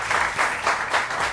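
A studio audience breaks into applause, a dense, loud burst of many hands clapping with a slight pulsing swell, close and without talk.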